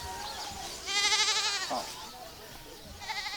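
A goat that is about to be slaughtered bleats loudly in a long wavering call, with a shorter bleat following, as people talk nearby.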